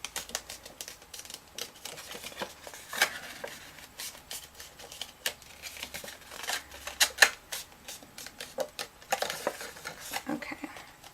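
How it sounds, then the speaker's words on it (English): Thin paper card being folded by hand along scored lines for a Monster High craft: a run of soft, crisp creases and light taps, close and quiet, with brief pauses between folds and no talk. "along these lines that we made here, we're just going to go ahead and fold."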